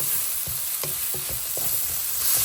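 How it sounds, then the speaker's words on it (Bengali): Cumin and spices sizzle and crackle in a hot pan while a utensil scrapes and stirs in short, uneven strokes. "এটা দিয়ে একটুখানি 1-2 মিনিট ভাজা ভাজা করব"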